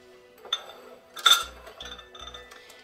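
A metal muffin tin is picked up and set down, giving a few scattered clinks and one brighter metallic clang near the middle, with soft low bumps afterward.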